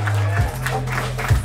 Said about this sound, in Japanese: 最高ナイスバトル、大きな拍手お願いします